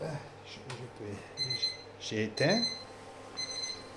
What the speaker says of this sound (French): Là, c'est une alarme que j'ai.